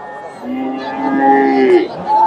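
A Friesian heifer at a cattle market lows loudly and close by in a drawn-out, wavering moo that rises and falls over about two seconds.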